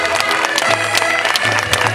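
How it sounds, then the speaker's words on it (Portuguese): Loud, dense applause from an audience for a folk dance group, many hands clapping steadily and close up, with music or a low hum running underneath. "Mais uma salva de palmas para eles,"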